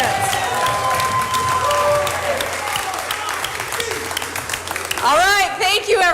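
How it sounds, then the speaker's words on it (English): Audience at an IGNITE graduation ceremony applauds the graduates, sustained loud clapping with cheers and a few whoops, then a rising whistle-like cheer near the end, with a speaker talking over it. "Let's clap for the graduates."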